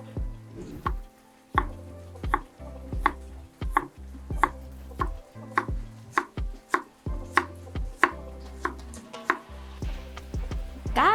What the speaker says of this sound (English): Now, shallot. Peel it and thinly slice it.